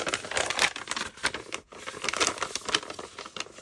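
Copy paper is crumpled and crinkled continuously close by, a dry crackling rustle with a brief pause partway through.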